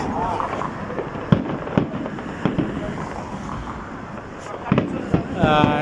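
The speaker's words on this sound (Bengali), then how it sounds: "এই তিপ্পান্নতম ন্যাশনাল ডের ফায়ার ওয়ার্ক" Fireworks for Dubai's 53rd National Day, seen from Al Seef in Deira: scattered distant pops and bangs over a steady crowd murmur, with a few sharper bursts toward the end and people talking nearby.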